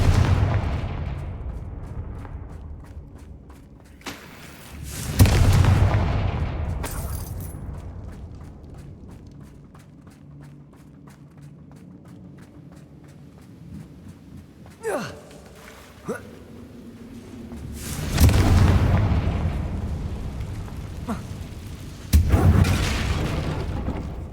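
Blasting spell explosions from the game Hogwarts Legacy: several loud booming bursts spaced through the scene, each decaying into rumble, with quieter game ambience between them.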